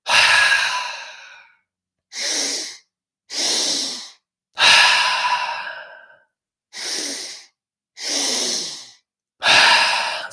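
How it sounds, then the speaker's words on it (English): Deep breathing exercise for mountain athletes: seven loud, close breaths alternating inhales and long exhales through the mouth, each separated by short silences, with no talking. "Inhale belly. Inhale chest."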